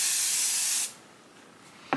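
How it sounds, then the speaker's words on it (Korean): Hair spray hisses onto hair in one steady, loud burst lasting almost a second, then stops, leaving quiet room tone and a brief faint tap. "여기서 스프레이로 좀 고정을 시켜줘요"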